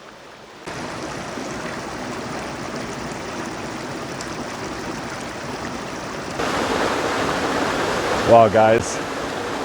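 Wildcat Falls on the Back Mountain Rail Trail in Pennsylvania, a steady broad rush of flowing water that swells louder partway through, with someone briefly speaking over it near the end.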